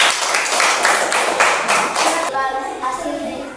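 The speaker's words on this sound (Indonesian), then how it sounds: "tepuk tangan untuk mereka." A classroom group claps for a student discussion team, a burst of fairly close, rhythmic hand claps that thin out and fade after a couple of seconds, with faint voices behind.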